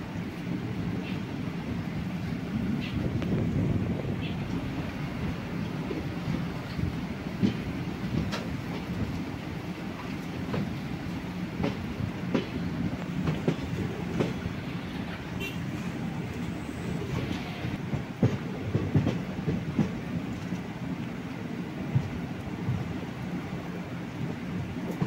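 A passenger train runs in the rain between Alappuzha and Ernakulam, with a steady low rumble of the carriages, scattered clicks and rattles of the wheels, and a constant wash of rain noise throughout.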